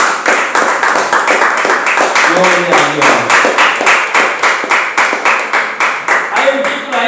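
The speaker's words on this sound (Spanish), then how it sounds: "Denle un aplauso si usted puede." A church congregation claps together in steady, rapid applause that fills the room, while a voice speaks briefly over the clapping.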